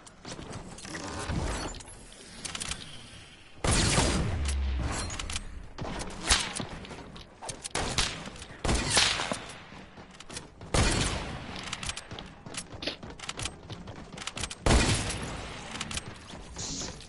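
Rapid bursts of video game gunfire crackle through a fast firefight, volleys of shots and sharp cracks coming in uneven clusters at close range.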